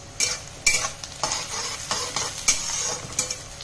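Onions fry in mustard oil in a hot kadai, a spatula scraping and stirring in repeated strokes over a continuous close sizzle, with no voices.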